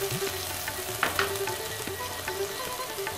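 Onion and garlic paste fry in oil with a steady, moderate sizzle, punctuated by a few louder spits and light utensil taps.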